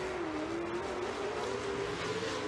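Drift cars at Formula Drift Seattle roar through a banked section, a loud sustained engine drone with slowly shifting pitch and steady high-pitched tire noise throughout.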